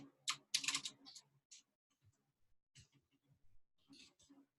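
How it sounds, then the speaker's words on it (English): Quick bursts of computer keyboard typing, close and quiet, clatter in short clusters with pauses in between. "I'm going to start typing something out"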